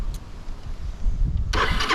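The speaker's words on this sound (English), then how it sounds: "And then we'll hit the ignition" A Suzuki TU250X motorcycle engine is started with the ignition; after a quiet moment it catches abruptly and runs with a close, loud, steady idle.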